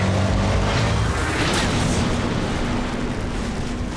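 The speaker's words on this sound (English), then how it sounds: "Did you just explode Anthony?" A booming in-game explosion from the Twisted Metal video game erupts over a dense, continuous roar of action sound, loud and sustained with a sharp burst partway through.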